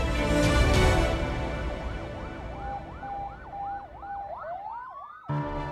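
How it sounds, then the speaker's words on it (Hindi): An ambulance siren arriving, its wailing tone rising and falling in steady repeated sweeps over a dense, noisy background, fairly loud throughout, then a sudden burst of broadband noise at the end. "एम्बुलेंस आ गई"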